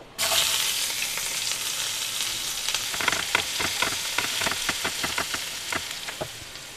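Steady, loud sizzling of chopped onions frying in hot oil after whole spices, with crackles and occasional scraping stirs, no voices.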